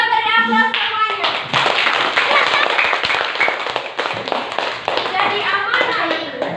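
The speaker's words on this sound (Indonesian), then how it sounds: "kita beri aplaus semuanya" A class of students applauds together in a classroom, loud and sustained clapping filling most of the stretch, with a teacher's voice and children's chatter over it.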